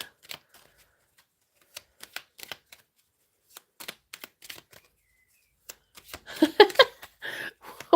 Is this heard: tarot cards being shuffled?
yes